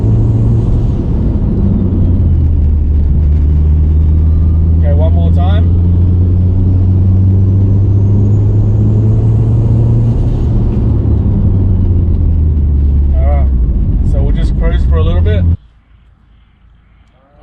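Mitsubishi Evo 8 driving while new brake pads are bedded in, a loud steady engine drone with rising and falling revs inside the cabin, a few short squeaks, before cutting out near the end.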